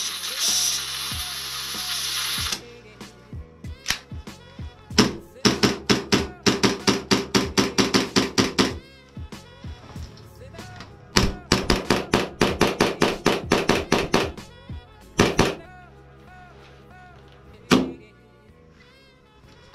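A Tokyo Marui Hi-Capa 5.1 Gold Match airsoft pistol fires in rapid strings of sharp, loud, close snapping shots. The strings are broken by short pauses, and a few single shots come near the end.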